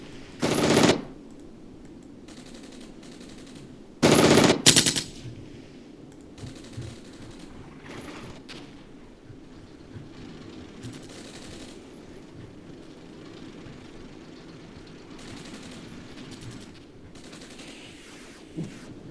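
7.62 mm medium machine gun fire in the war game Armored Brigade, with two loud bursts of rapid shots early on, then quieter distant rattles and scattered clicks over a low battle background.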